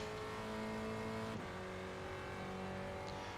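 A Spec Racer Ford race car engine in the iRacing game at Okayama drones steadily at high revs, with a brief gear change partway through, loud and constant without speech.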